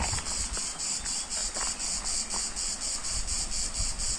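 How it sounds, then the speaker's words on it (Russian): Insects chirp steadily in dry countryside of clay and sand along stony roads, a dense pulsing high buzz that throbs in a regular rhythm throughout, with faint low rumble beneath and no voices. "Трещотка трещит."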